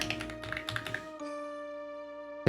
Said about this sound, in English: Do you enjoy hearing typing?